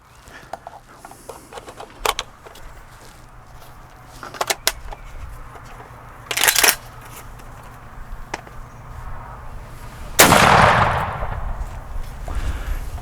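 An Antares MG-99 magazine shotgun fires 32-gram number 6 cartridges outdoors; two sharp, booming shots ring out several seconds apart amid faint rustling and ambient noise.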